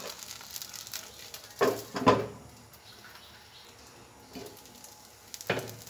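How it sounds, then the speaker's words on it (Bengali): Patishapta pitha, a soft rice crepe later filled with coconut, fries in a thin film of oil in a covered pan, giving a faint steady sizzle with a few brief louder bursts of pan handling. "এভাবে কিন্তু আমি সবগুলোই ভাজি করে নিব।"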